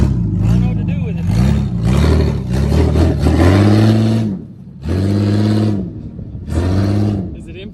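A remote control jeep's electric motor whirs in several revving bursts with short pauses between them, close and loud, while people talk nearby.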